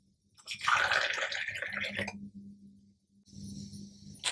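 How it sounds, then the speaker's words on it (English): Distilled water poured over the grate into the tank of a VH-600 two-in-one hydrogen generator, a close, steady trickling splash for about a second and a half, then a brief pause and a second softer pour with a faint hum beneath. "you want to fill it up until the system has accepted enough water"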